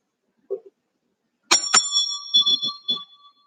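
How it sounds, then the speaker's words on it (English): A bell rung to close a yoga meditation practice: two quick strikes followed by a clear, sustained ringing tone that slowly fades, with a few soft low sounds beneath it in an otherwise quiet room. "The bell signifies the completion of our practice."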